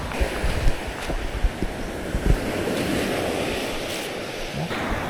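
Fairly large ocean waves wash steadily onto a rocky shore, mixed with gusty wind buffeting the microphone. No voices are heard.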